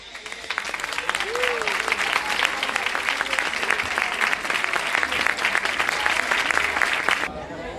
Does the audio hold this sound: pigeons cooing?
no